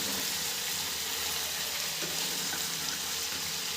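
Potatoes fry in a pan during late-night home cooking as a little water goes in, producing a dense, even sizzle and hiss that stays constant and close throughout.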